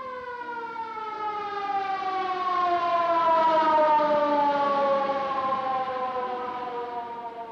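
An ambulance siren sounds in a 1946 film scene as one long wailing tone that swells in loudness and slowly eases off, heard alone with no voices.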